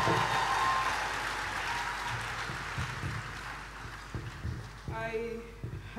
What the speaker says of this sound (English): with a resounding applause, let's welcome Mr.